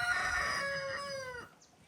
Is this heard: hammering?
no